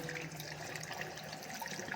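Salty water gushes under pressure from an underground well pipe in Taif, Saudi Arabia, at night: a short, steady hissing splash that stays fairly quiet throughout.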